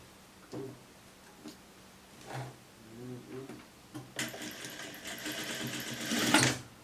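A sewing machine stitches a seam on a sweatshirt skirt in short, quiet bursts that build into a longer steady run near the end, faint and close with no talk over it.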